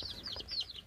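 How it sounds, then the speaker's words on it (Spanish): Young chicks on a small farm give high, thin peeping chirps in quick overlapping runs, faint and close, with no talk over them. "Buenos pollitos ahí."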